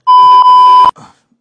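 A loud, steady electronic beep sound effect holds a single pure tone for nearly a second, then cuts off into a brief faint murmur.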